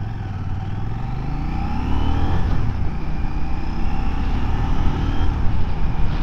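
A 2024 Husqvarna Svartpilen 801 motorcycle cruising at motorway speed, with a steady engine drone that climbs slightly in pitch over rushing wind noise, heard loud and close throughout.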